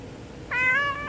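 A single cat meow, clear and fairly close, rising then holding briefly before fading, with no talking.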